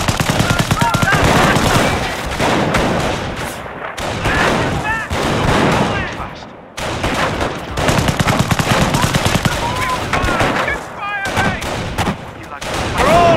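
Rapid bursts of rifle and machine-gun fire crackle through a video game infantry battle, volleys rattling in dense clusters with brief pauses, while voices shout over the shooting.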